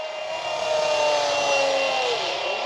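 A steady high-pitched whine of a Fly Wing MH-60T Jayhawk RC model helicopter's motor and rotor as it banks through turns, continuous and fairly close, its pitch slowly falling and shifting.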